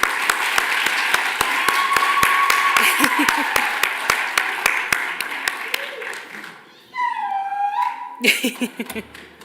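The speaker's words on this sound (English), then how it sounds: "Let's give them another round of applause." Audience applause for graduates at the EIT graduation ceremony in Gaborone, Botswana: steady rhythmic clapping with a few loud hand-claps standing out, thinning away, while voices and cheers rise over it near the end.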